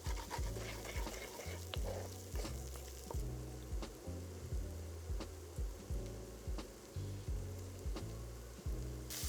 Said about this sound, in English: Let these sizzle and fry for a few minutes to cook out the sort of harsh bitter flavour